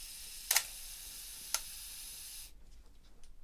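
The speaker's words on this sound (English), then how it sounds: "That is the shutter." A Canon FTb film camera's shutter fires with a sharp, crisp click, followed about a second later by a smaller second click, over a steady hiss that cuts out toward the end.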